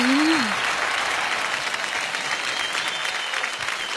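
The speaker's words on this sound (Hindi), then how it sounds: "जोरदार तालियों से स्वागत कीजिए।" An audience claps loudly and steadily to welcome a singer onstage, dense applause lasting throughout, with a brief voice heard at the very start.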